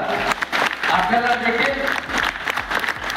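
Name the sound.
audience applause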